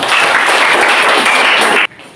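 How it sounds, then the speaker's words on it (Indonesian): Classroom of students applauding together, a loud, dense burst of clapping that stops abruptly near the end. "Mari kita berikan tepuk tangan."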